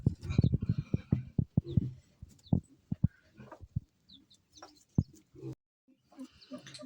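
Clucking and chirping young game birds, not chickens, close by, with scattered short calls and a voice talking over them in a farmyard setting.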